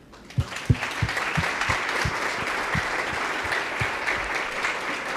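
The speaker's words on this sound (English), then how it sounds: "Please give another applause for Karen." Conference audience applauding a speaker, a dense sustained burst of clapping with a few sharp louder claps near the start, steady and fairly close throughout the clip.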